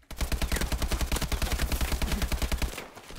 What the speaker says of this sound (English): That was a dumb gun battle.